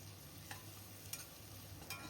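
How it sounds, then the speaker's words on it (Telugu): Ginger garlic paste frying in a pan for chicken biryani, a faint, steady sizzle with three brief stirring scrapes spaced about half a second apart, no voices. "ఇప్పుడు అల్లం వెల్లుల్లి పేస్ట్ పచ్చివాసన పోయినంత వరకు ఫ్రై చేసుకోవాలి"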